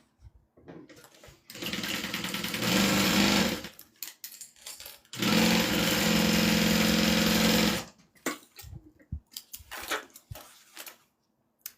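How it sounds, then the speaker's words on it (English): A sewing machine stitches fabric pieces together, running loud and steady in two long bursts with a pause between them, followed by short scattered handling clatter. "now we're going to go ahead and sew it together"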